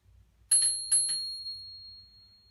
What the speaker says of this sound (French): On a également une sonnette intégrée directement au guidon.